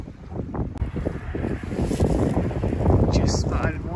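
Strong gusting wind buffets the microphone outdoors during a woodchuck hunt with an FX Impact M3 airgun, a loud continuous roar with rumbling swells throughout and no clear talk.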